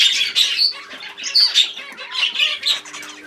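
Busy, overlapping chirps and squawks from a group of zebra finches, bright and continuous, with a faint steady hum beneath.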